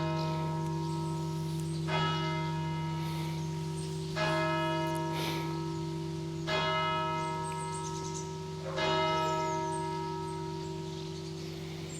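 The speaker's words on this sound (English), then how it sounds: "I do love a good church bell" A church bell in a French village near Limoges rings in slow, evenly spaced strikes, each leaving a long ringing hum that overlaps the next, heard from a moderate distance with no talking.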